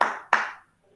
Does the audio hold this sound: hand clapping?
yes